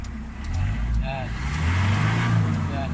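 A Mitsubishi Adventure's 4D56 diesel engine revs up and holds a steady high drone close by, with someone talking over it.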